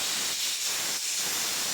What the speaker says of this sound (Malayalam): ഇനി കുക്കറിൻ്റെ ഗ്യാസ് പോകുന്നിടം വരെ നമുക്ക് ഒന്ന് വെയിറ്റ് ചെയ്യാം